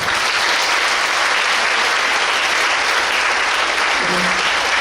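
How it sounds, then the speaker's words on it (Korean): At an elementary school parents' general meeting in a Korean international school hall, an audience gives dense, steady applause for several seconds at an even, loud level. No one speaks over the clapping. "큰 박수 부탁드립니다"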